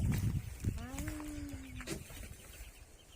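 A single drawn-out cluck from a chicken, with faint background rustling and a muffled voice nearby.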